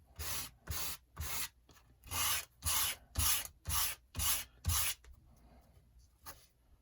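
A model rocket part from an Estes K-series Streak kit has its inner edge scraped in nine steady, evenly spaced rasping strokes, close and fairly loud, then a pause and one faint final stroke.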